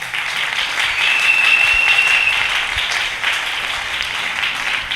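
A church congregation applauds after a sermon, with dense steady clapping from many hands filling a hall throughout, loud and continuous.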